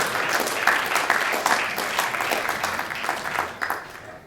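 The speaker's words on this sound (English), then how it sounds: "let's have a warm round of applause for Paul." Audience applause for Paul G. Smith at a record label's box-set launch event, a steady round of clapping from a modest crowd that carries on throughout and thins slightly toward the end.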